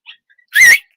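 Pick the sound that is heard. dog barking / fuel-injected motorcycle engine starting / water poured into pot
dog barking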